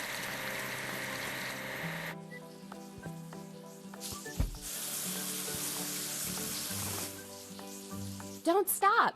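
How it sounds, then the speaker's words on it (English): Foam spraying onto a timber loader at a wash bay in a train game, a steady broad hiss lasting a few seconds over tonal game music, with short sputtering bursts near the end. "Let's start foaming the vehicle."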